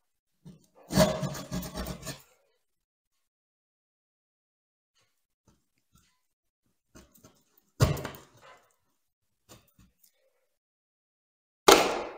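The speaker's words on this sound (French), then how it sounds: "pour couper, je vais prendre ma petite scie vibrante" A small oscillating saw cutting along a marked line: a roughly one-second rasping burst near the start, then quieter, shorter scraping bursts with near silence between them and a final loud burst at the end.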